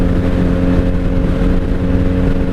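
A 1997 Honda Magna VF750C V4 motorcycle cruising on a highway, carburetors fouled by bad fuel, its engine holding a steady loud droning hum over constant wind rush, close and continuous.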